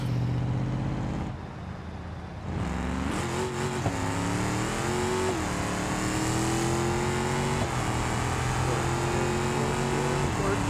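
A high-torque car engine in BeamNG.Drive revs and pulls, its loud droning tone climbing and dipping through several throttle swells before holding at a steady higher pitch.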